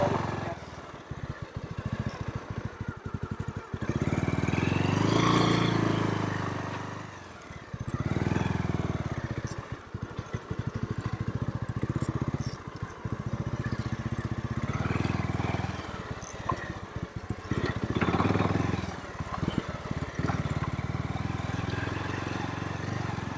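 A motorcycle engine runs close by near Sajla Waterfall on the Kullu Manali Highway, a steady loud rumble that swells and dips over about twenty seconds, with brief spoken words mixed in.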